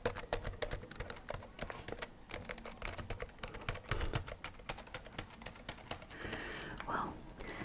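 Rapid clicky typing on the white keyboard of an old 2007 laptop, dense irregular keystrokes close up and fairly quiet, continuing throughout with a few soft rustles near the end.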